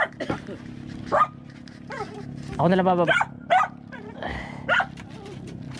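A dog near a hut yips and barks in short bursts while being fed, close by, with a whimpering, tonal bark in the middle and people talking throughout.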